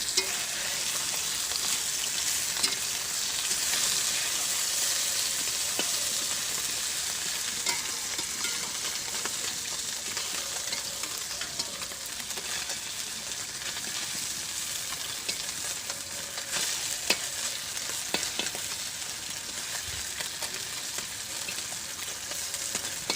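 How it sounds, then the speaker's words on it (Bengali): Small fish frying in a pan, a constant crackling sizzle sustained at moderate level, with scattered pops and faint clatter, no voices. "এখানে মাছ ভাজি করছি"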